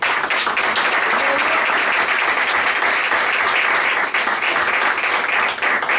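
Church congregation applauding together in a dense, continuous burst of clapping that holds steady for several seconds, with no voices rising above it.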